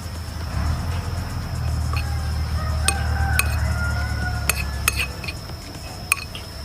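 Sambal matah being mixed in a bowl with a utensil after a little oil is added, close metallic clinks and taps against the bowl at irregular intervals over a low steady background hum.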